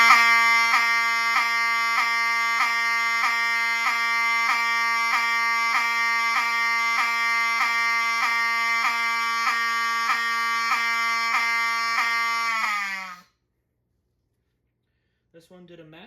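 Wheelock 7001T fire alarm horn blaring a loud, steady, harsh buzzing tone at close range for about thirteen seconds, then cutting off abruptly, with only a faint noise afterward.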